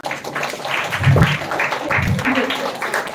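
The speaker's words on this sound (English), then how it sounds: "Round of applause for her" A school audience at a children's literature festival claps in a round of applause, a dense patter of hands mixed with young voices that continues steadily for about three seconds.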